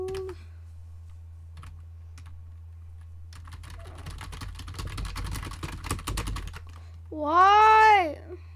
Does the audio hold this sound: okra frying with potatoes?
no